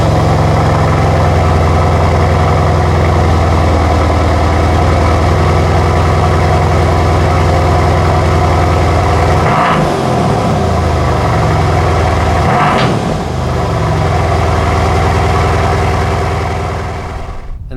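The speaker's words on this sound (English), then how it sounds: "this is what a cold start sounds like for me every morning" A Mercedes-AMG C63 S V8 idles after a cold start, a loud, steady deep rumble with two brief throttle blips, close and uninterrupted by speech, settling slightly toward the end.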